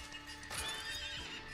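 A horse in the Western game Far Far West whinnies loudly across the whole stretch, with a couple of hoof clip-clops sounding near the middle and end, all close and clear.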